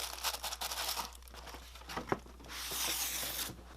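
Tissue paper rustles and crinkles inside an Air Jordan 13 shoe box, a run of close, soft crackles and tearing-like rustles that swell into a denser crumple near the end.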